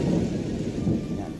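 A storm at sea, with a low continuous rumble of thunder and heavy rain roaring steadily, loud and close, with no voices over it.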